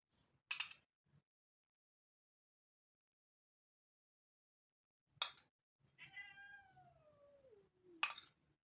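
A cat meows faintly once, a drawn-out falling cry in a quiet room, framed by a few sharp clicks or taps.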